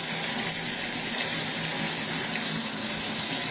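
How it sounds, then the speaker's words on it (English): Tap water gushing steadily into a bathtub, a continuous broadband rushing splash that stays close and even throughout with no other sounds. "We're gonna fill it up in the bathtub."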